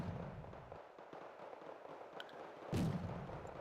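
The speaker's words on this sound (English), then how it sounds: "I'm queuing up a mortar run" Mortar fire in a strategy video game, low distant thuds and crackle under quiet background, with one sharper louder blast late in the clip.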